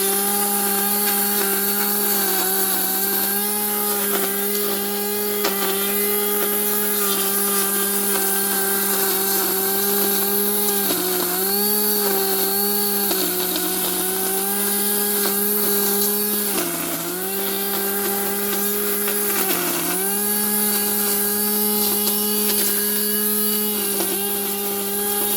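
A Black + Decker grass trimmer cuts grass with a loud, steady high-pitched motor whine that dips briefly in pitch several times as the line bites into the grass, close by and without talk.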